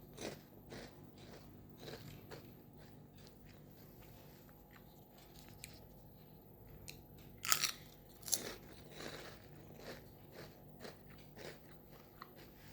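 Someone slowly munches crunchy sago papad flavoured with black cumin, close to the mic, with repeated soft bites and chews and two louder crisp crunches partway through.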